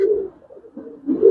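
Giribaz pigeons coo softly in a loft, a close low warbling coo that rises, dips and swells again, alone without talk.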